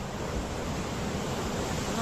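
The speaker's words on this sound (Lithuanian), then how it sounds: "Šiandien diena, jūra ošia, labai gražu." Sea waves roaring along a shore on a bright day, a constant broad rushing wash with slight swells, loud and close with some wind buffeting the microphone.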